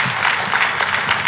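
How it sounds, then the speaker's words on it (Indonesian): A church congregation claps at a worship service in a brief burst of dense, lively applause, with a voice faintly underneath. "Tepuk tangannya pula yang paling meriah buat Tuhan kita."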